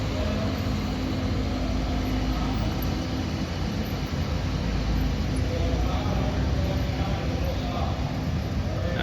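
A restored International 1456 diesel tractor engine runs with a loud, steady rumble at an outdoor show, with a broad, constant roar close by and no clear rev peaks.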